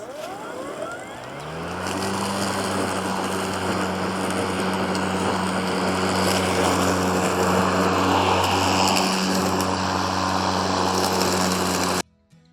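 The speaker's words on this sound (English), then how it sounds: "So this is our Ego mower" An Ego battery-powered lawn mower spins up after a short quiet start and runs at a steady, loud electric whine with an even motor hum that holds until it cuts off abruptly at the end.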